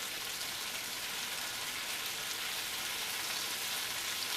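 Flour browning in butter in a pan for beef stew, a steady, soft frying sizzle with a continuous hiss and no talking.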